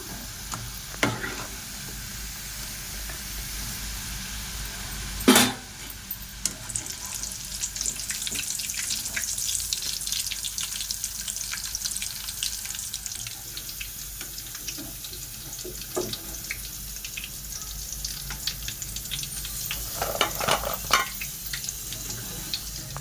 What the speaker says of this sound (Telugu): ఇలా రెడ్ కలర్ వచ్చేదాకా ఫ్రై చేసుకొని ఇప్పుడు తీసేద్దాం ఫ్రెండ్స్